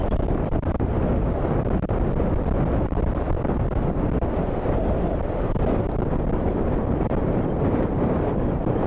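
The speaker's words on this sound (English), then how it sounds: "This wind really wants to throw me off this pillar." Strong storm wind at Dublin Airport during Storm Amy roars and buffets the microphone in a loud, continuous broadband rush for the whole stretch, with no voices.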